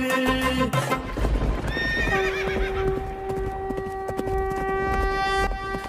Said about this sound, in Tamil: சீறி வருகுது அந்த குதிரை